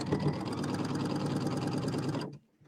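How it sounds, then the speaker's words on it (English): A sewing machine runs steadily, stitching a quarter-inch quilting seam, its rapid, even mechanical whir continuing close by for about two seconds before stopping abruptly. "I'm doing my 1/4 inch seam with my Q02."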